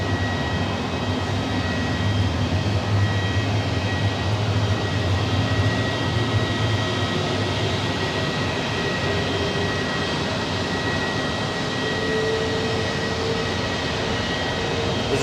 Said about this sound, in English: I think the next one will be the Delta departing